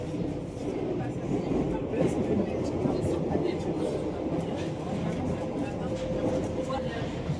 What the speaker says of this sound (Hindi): देखो मेट्रो चल रही है।